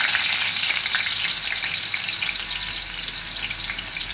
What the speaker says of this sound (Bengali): দিয়ে দিচ্ছি আলুটা, তেল গরম হয়ে গেছে।